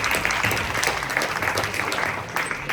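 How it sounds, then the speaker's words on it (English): A round of applause from the audience at a Burmese-American community event for the final panelist, a brief, steady burst of clapping with a faint crowd murmur. "Big round of applause for our last panelist here."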